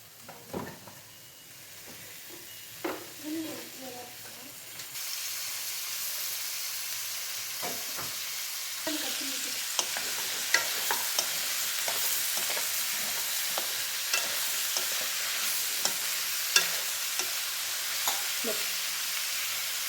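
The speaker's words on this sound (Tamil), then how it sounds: "இப்போ இந்த வெண்பூசணிக்காயை நம்ம ஒரு வாணலில் போட்டு கொஞ்சமாக எண்ணெய் ஊற்றி வதக்கிக்கலாம்." Diced ash gourd tossed into a pan with a little oil: a few scraping stirs, then a strong, continuous close sizzle with occasional spoon taps and crackles.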